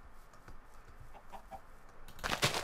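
Chickens in the Minecraft video game give a few short, soft clucks, faint and spaced out, followed by a louder burst of sound at the end.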